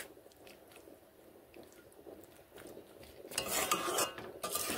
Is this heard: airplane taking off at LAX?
no